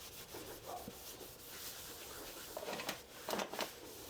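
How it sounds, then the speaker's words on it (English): Close, quiet scrubbing rubs while cleaning up after treating a rabbit's foot fern for ants, steady and low with a few brisker strokes near the end. "Just a little scrub down."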